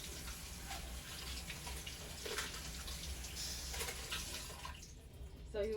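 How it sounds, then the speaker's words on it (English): Surgical instruments in a sterilization cassette are rinsed under a sink tap, giving a steady broadband splash of running water with scattered drips throughout, close and fairly loud. "then you have to rinse it off in the sink"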